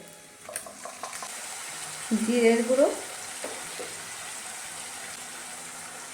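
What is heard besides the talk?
ginger garlic paste frying with fried onion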